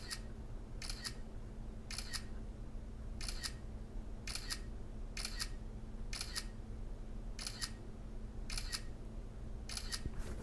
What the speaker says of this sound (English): That classic camera sound.